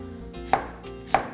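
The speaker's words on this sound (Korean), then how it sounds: "자, 이제 야채를 썰어 보겠습니다. 양파는 반을 잘라서" A knife chops through a halved onion on a board during bulk cooking of seafood rosé tteokbokki for military meals: two crisp, separate chops about half a second apart over a low steady kitchen hum.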